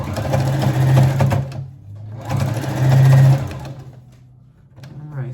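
A sewing machine stitches a waistband onto a maxi skirt with ruffles, running in two loud, close, whirring bursts of about a second and a half each, separated by a short pause, then starting up briefly again at the end.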